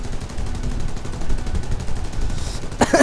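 Artillery cannons firing in the War Thunder video game, a rolling stream of rapid booming shots, then a sharp louder blast near the end.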